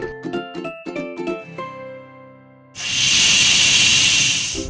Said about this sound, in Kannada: ವಿಷಲ್ ಬರೋವರೆಗೂ ವೇಟ್ ಮಾಡಿ.